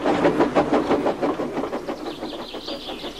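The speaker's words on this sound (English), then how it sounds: "All he could do was watch the trains rushing through the other tunnel." A train rushes through a railway tunnel, a rhythmic clattering rumble with repeated wheel beats that swells and fades over a few seconds, fairly loud and close, with no voices.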